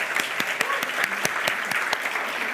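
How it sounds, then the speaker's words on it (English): Audience applause at a startup event's main stage, a steady wash of clapping from a crowd with sharp individual claps standing out, sustained throughout. "So I'd like to have a grand applause for all of us."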